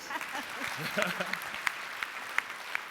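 A room of people gives light, scattered applause at a breakfast event, with distinct individual claps over a murmur of voices.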